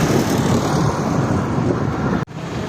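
Steady roar of road traffic in Bulacan, Philippines, on the way to Norzagaray, with broadband engine and tire noise, vehicles passing close by, a brief dropout near the end.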